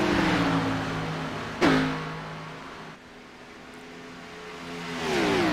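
Race cars roar down the front straightaway at Texas Motor Speedway in a racing video game, a steady engine drone with a sharp burst as one passes, then rising again toward the end.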